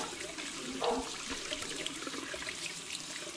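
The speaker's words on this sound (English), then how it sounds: "We should keep our arms at least 90 degrees angle to let the water" Tap water runs steadily during a surgical handwash as hands and forearms are rinsed with arms angled so water flows down, a soft continuous splashing and trickle heard close by with no talking.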